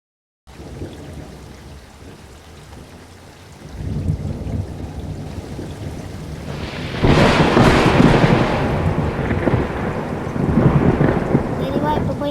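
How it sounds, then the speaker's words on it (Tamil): Heavy rain falls steadily outdoors, growing louder around four seconds, then a big rolling thunder burst at about seven seconds swells the storm into a thick, continuous roar. "வெளியே சத்தம் கேட்குது, மழை பெய்யுற மாதிரி."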